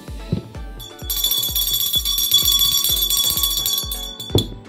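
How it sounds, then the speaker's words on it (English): A small metal bell is struck again and again in a quick, steady rhythm, loud and close, ringing on with bright sustained tones before tapering off, with no talking over it. "Let me get my lucky bell."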